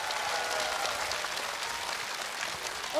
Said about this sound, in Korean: 첫 번째 출연자에게 박수 주시기 바랍니다.